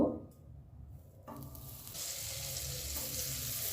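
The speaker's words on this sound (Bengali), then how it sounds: "কড়াই গরম হয়ে গেছে কড়াইতে এবার আমি পঁচিশ গ্রাম বাটার দিয়ে দেব" A steady hiss of 25 grams of butter sizzling and melting in a hot wok builds, continuous and close, with a faint clink at the start and no voices.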